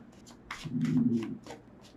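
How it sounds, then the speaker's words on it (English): Tarot cards being shuffled close by, a quick riffle of papery flicks lasting about a second, with soft taps before and after. "Off the top of the deck, 2 more shuffles."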